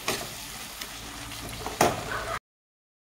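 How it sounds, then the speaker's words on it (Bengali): Spiced masala with whisked yogurt sautés in a pan, giving a steady close sizzle and crackle for about two seconds, with a sharper burst of frying near the end before it cuts to silence. "দইয়ের সাথে আমি আরও 5 মিনিট কষাবো"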